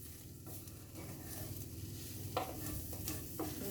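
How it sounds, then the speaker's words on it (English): Chicken for a tagine sizzles steadily in a hot pan while being stirred, with soft scraping and a few brief clinks of utensil on metal over a continuous frying hiss; no talking. "Give it a good old stir."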